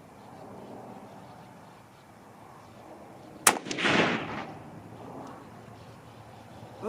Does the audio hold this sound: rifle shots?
yes